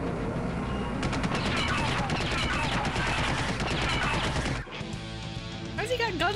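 Rapid gunfire blasts from guns mounted on a vehicle in the video game Full Throttle in a loud, continuous volley lasting several seconds. It ends abruptly and gives way to a quieter stretch with other game sounds.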